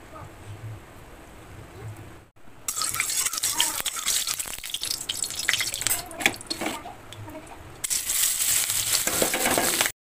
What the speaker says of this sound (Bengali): অন্যদিকে এই সাদা সাদা চিংড়িগুলো একটু ভালো করে ভেজে দিচ্ছি